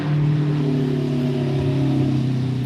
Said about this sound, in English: You hear that loud car.